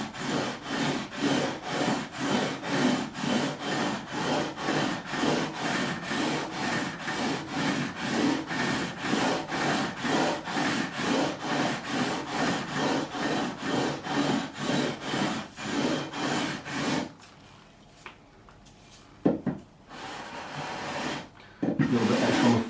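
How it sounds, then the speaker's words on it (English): Guitar frets on an Epiphone DOT are leveled with 400 grit sandpaper on a beam, giving steady rhythmic back-and-forth scraping strokes for about seventeen seconds before a few quiet handling sounds. "So finally, 400 grit, which is a smoother grit again. Same thing, let the beam do the work"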